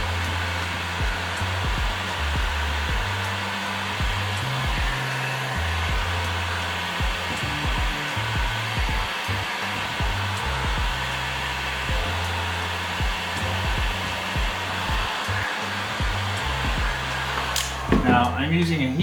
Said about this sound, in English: using a heat gun, so heat guns get a lot hotter, so it makes it a little quicker for me